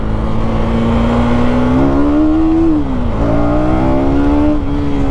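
KTM Duke 250 Gen3 motorcycle accelerating hard in first gear in track mode, a loud, close, continuous engine note rising steadily in pitch, dipping briefly, then climbing again.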